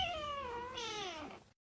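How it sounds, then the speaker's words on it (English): A cat gives a single drawn-out meow lasting over a second, close and clear, with a bending, slightly rising then falling whine and no other sounds around it. "Don't meow me."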